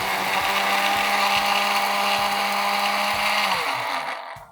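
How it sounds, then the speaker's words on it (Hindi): A kitchen juicer blender whirs loudly and steadily while blending an ice cream soda drink, then winds down near the end. "हमने क्या करना है, ओनली जूसर ब्लेंडर चलाना है"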